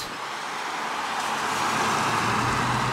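Cars passing on a road in Alexandria, USA, a close broad rush of tyres and engines that builds steadily louder and holds, with no talk.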